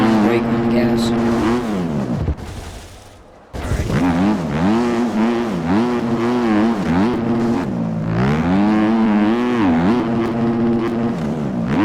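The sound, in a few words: Husqvarna dirt bike engine revving, from video game MX Bikes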